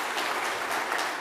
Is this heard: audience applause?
yes